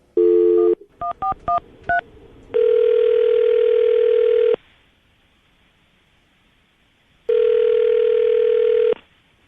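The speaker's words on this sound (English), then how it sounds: "I'm going to dial the phone number right now" Telephone being dialed: a brief tone, then a quick run of touch-tone DTMF beeps, followed by two long ringback tones separated by a pause of silence, clear and close.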